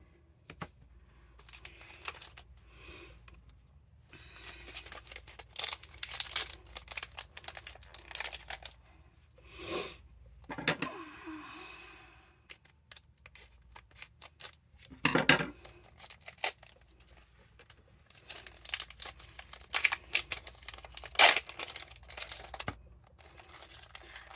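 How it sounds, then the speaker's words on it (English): Scissors snip and crinkle through card packaging from an Alpha Clash trading card box, with repeated close crisp cuts, plastic rustling and tearing in an irregular rhythm and no talking. "I always get nervous using scissors, but it seems to be the easier way to open everything here."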